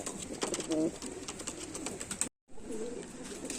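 Cooing of a Laldom pigeon, a low rounded call heard once near the start and again softly after a brief dropout, set against steady background noise.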